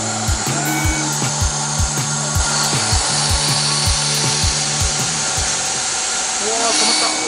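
A Daiso HSS drill bit bores into steel with a harsh grinding whine and a steady chattering pulse, then labors and stalls near the end as it binds in the hole.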